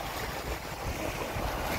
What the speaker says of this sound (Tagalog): Yan ang kanilang dagat.